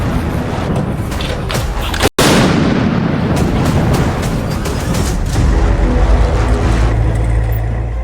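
Loud French-made Caesar howitzer fire on a Ukrainian battlefield, a sharp blast near two seconds followed by rumbling reverberation and further booms within continuous heavy battlefield noise.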